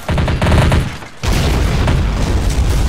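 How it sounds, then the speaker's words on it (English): Grenade launcher explosions in a WW3 strategy battle game set at an airbase, heard as a dense run of loud booming blasts and gunfire bursts, a brief lull, then continuous rumbling fire. "Those explosions from a grenade launcher."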